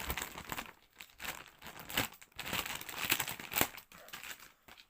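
A sealed plastic bag of 50p coins is crinkled and torn open in bursts of loud, close rustling and crackling, with brief pauses between the handling sounds.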